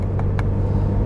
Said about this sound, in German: jetzt fahren wir heute in einem Porsche 911T